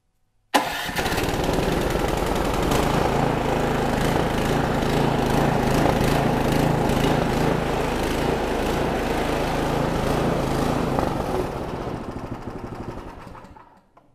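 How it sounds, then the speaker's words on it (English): A Toro snow blower engine starts at once with an electric starter, catching quickly and then running steadily at a loud, close, even roar for several seconds before fading at the end. "as soon as I hit this red button, it'll turn over. It turns really quickly since it's running on the electricity"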